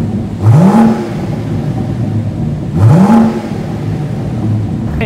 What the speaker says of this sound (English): this is still a sort of M car with a nice big engine and it sounds decent